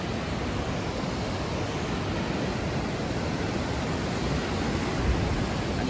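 A large river rushes below a narrow mountain road leading to Mustang and Manang, a steady, dense roar of whitewater that holds constant and loud for the whole stretch with no voices.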